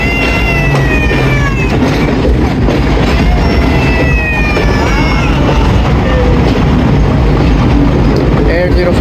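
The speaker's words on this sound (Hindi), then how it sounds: "हमारी ट्रेन जा रही है प्लेटफार्म नंबर 4" A Pakistani passenger train, the Rehman Baba Express, rumbles through a station at platform 4, giving a steady loud rail roar with squealing metallic tones throughout, and people talk over it.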